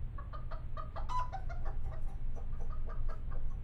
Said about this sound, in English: What's that noise? Our chickens.